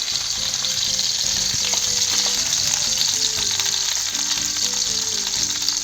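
Quails frying in a pan, giving a loud, steady sizzle and crackle with occasional pops and faint clinks of stirring, close up and continuous, with no talking.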